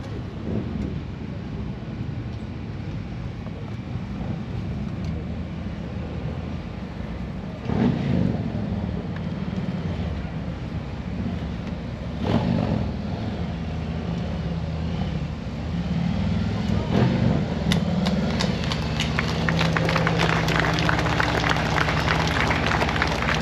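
Harley-Davidson motorcycle ridden in during a veterans' memorial ceremony at a Pennsylvania Harley-Davidson dealership, a steady, dense engine rumble that swells louder toward the end, with crowd noise mixed in.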